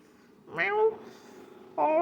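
A cat gives two close meows, one rising and falling and a second starting near the end, in a quiet room.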